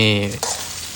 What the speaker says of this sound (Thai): นี่ครับก็คั่วคั่วให้เหลือง ให้เหลืองสุกดีนะครับต้องแห้งมากนะฮะ